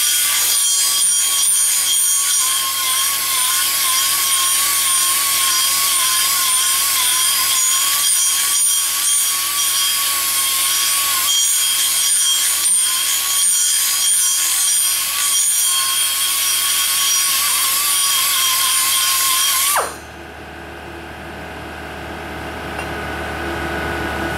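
A drill spins a small wire brush against wood in a loud, steady, high-pitched scrubbing whine that lasts about twenty seconds, then cuts off abruptly, leaving quieter background noise.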